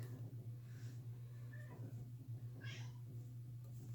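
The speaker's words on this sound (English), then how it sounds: "All my kitties are playing now. Apparently it's playtime." Cats meow intermittently while playing, a couple of short cries over a low steady hum, fairly quiet and close by.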